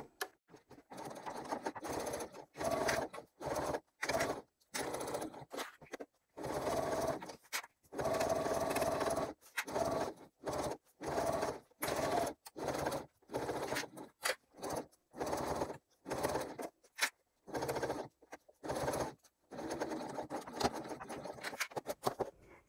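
A sewing machine stitches a pocket on a crossbody bag, running close up in many short whirring bursts separated by brief pauses, with no voices.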